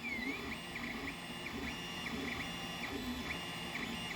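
A Creality 3D printer runs with rhythmic stepper-motor whines rising and falling in repeated short sweeps over a constant fan hum, close and steady.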